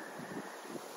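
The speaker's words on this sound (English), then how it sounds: "It's super windy" A steady rush of strong wind buffets the microphone in a central Texas garden with a low, constant roar and slight gusts, faint and unbroken.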